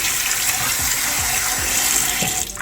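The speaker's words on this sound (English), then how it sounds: "you rinse it with water" Warm water runs steadily from a tap with a broad rushing hiss, splashing over seafood being rinsed underneath, close and continuous throughout.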